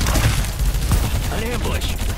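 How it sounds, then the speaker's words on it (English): Rapid gunfire in the Farlight 84 battle game, sustained bursts running through the whole stretch alongside dense game effects and voice lines, loud and close. "Open fire. Engaging."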